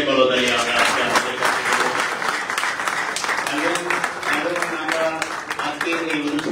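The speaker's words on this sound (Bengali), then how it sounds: "আজকের এই দুইজন প্রাণপ্রিয় মানুষের উদ্দেশ্যে একটা জোরে সুরে করতালি আমরা" Conference audience applause fills the hall as a dense, continuous patter of many hands clapping, loud and sustained throughout, with voices mixed in under the clapping.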